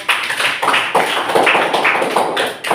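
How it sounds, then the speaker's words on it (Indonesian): Students in a junior high school classroom in Sumbawa applaud a presenting group, with brisk rhythmic clapping that keeps a steady beat close by. "kita beri aplaus yang meriah untuk kelompok"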